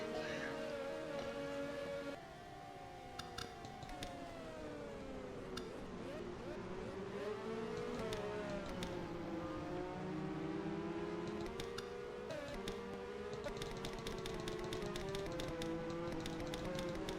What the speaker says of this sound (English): he sees Allison get farther and farther away in a 77 machine right there